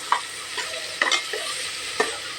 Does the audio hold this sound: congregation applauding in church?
no